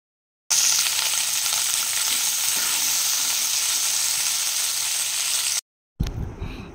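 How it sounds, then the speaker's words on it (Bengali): Cut vegetables fry in a pan with a steady, close sizzling hiss that runs for about five seconds, then stops briefly before a short burst of louder clattering sound. "তো এগুলোকে আমি ভেজে নেব।"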